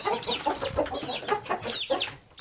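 Several chickens cluck and chatter close by in quick, overlapping calls, with an Indian game rooster's voice mixed in among them.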